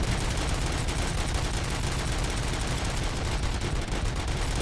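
Dense, unbroken automatic weapon fire from a Robocop video game, loud and close, hammering steadily without pause for the whole stretch.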